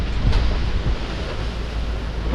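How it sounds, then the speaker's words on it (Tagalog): Strong wind gusts across an open farm field, a steady loud roar buffeting the microphone with no voices. "Lakas ng hangin eh."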